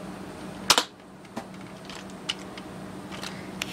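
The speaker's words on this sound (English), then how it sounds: "here is the Nerf Maverick firing." A Nerf Maverick toy dart gun fires once with a sharp, loud spring-and-plunger snap, then a few faint clicks follow over a quiet steady hum.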